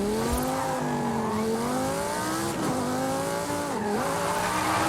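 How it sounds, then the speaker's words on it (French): In a racing video game, a car drifts through mountain roads with a loud, sustained engine drone and tire squeal that rise and fall in pitch as it slides through the corners. "On va essayer de faire des drifts dans les montagnes."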